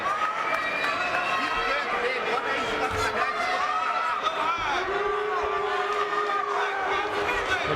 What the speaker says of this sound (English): The crowd once more.